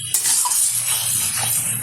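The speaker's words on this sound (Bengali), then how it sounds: "কই মাছটা একটু নেড়ে চেড়ে নেব" Fried koi fish is stirred into spice masala in a pan, a continuous sizzle with a soft scraping of the spatula, close and steady with no talk.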